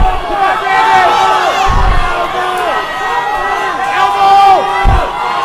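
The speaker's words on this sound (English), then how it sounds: "The crowd is into this one." A crowd at an MMA bout cheering and shouting loudly during a grappling exchange on the ground, with rising whoops and yells swelling in waves and some close voices on top.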